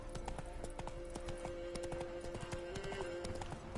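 Roach the horse galloping in The Witcher 3, hooves clip-clopping in a quick, steady rhythm close by over faint ambient game sound, with no talk.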